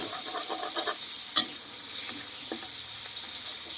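Garlic being stir-fried in a pan for a Thai stir-fried long eggplant dish, giving a steady soft sizzle with light scraping stirs and one sharp clatter midway; no voices.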